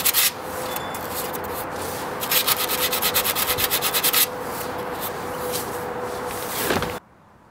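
Sandpaper rubbed by hand over a DIY trunk cover, a steady close scratchy swishing with quicker rhythmic strokes in the middle, stopping abruptly near the end.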